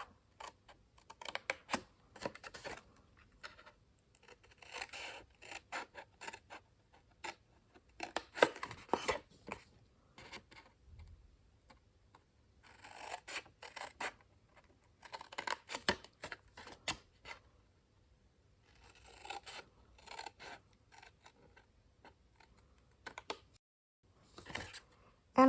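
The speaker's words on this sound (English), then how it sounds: "I'm going to cut each of these tabs off at an angle just to get rid of the bulk inside the box" Scissors cut the tabs off a paper pillow gift box at an angle, making a run of short, crisp snips and rustles in irregular bursts, close and fairly quiet, with pauses between cuts.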